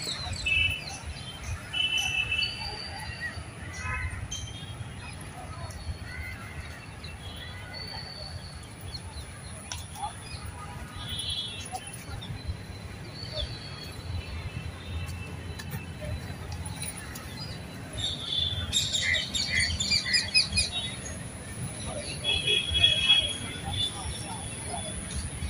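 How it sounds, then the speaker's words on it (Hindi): Small birds chirp and tweet in scattered high bursts over a faint insect hum in a quiet park, with people talking nearby through much of it. "आप लोग कीट पतंगे और चिड़िया की आवाज़ साफ साफ सुन सकते हैं"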